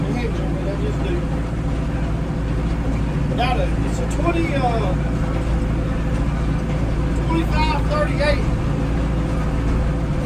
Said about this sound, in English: Out here on the Mahindra tractor, I call it my Mahindra.